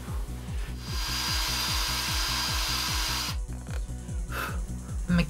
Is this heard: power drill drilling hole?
yes